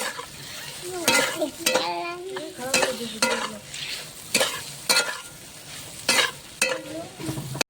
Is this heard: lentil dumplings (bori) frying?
yes